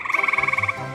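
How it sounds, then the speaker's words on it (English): Gray tree frogs calling near water, a rapid pulsing trill of about a dozen evenly spaced beats, loud and close, ending abruptly and followed by quieter background chirps. "We're going to catch tons of these gray tree frogs."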